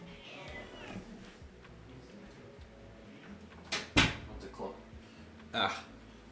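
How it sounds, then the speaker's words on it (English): A house cat shoves an indoor door open, giving a couple of close bumps and rattles along with a short meow, while muffled sound drifts in from another room. "My kitty shoved the door open,"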